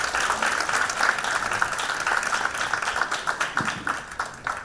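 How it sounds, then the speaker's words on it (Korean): Audience at an education forum applauding to welcome a speaker to the stage, sustained dense clapping from a large crowd that gradually thins toward the end, no talking. "국가교육회의 김진경 의장님을 큰 박수로 맞이해 주시기 바랍니다"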